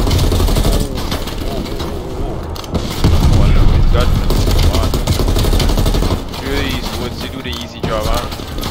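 Gunfire in the video game Call of Duty: Black Ops Cold War, dense loud shots and booms running throughout under an excited player talking over them.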